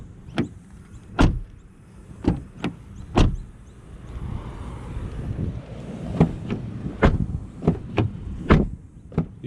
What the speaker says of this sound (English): You've got a really nice solid thunk, typical of Volkswagens once again.